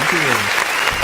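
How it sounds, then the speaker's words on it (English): Studio applause for a live radio guest, a short loud burst of clapping close to the microphone with a brief voice-like tone at the start. "Round of applause for you, my brother."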